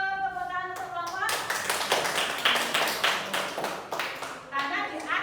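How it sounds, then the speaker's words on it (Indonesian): Hands clap in a group round of applause in an Indonesian sixth-grade classroom, a dense burst of claps following a voice, with children speaking again as the clapping fades. "tepuk tangan untuk kelompok."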